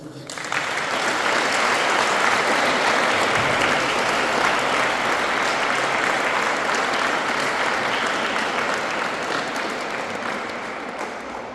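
An audience at the opening ceremony of a memorial tournament breaks into sustained, loud applause, a dense wash of clapping that holds steady for about eleven seconds before easing slightly.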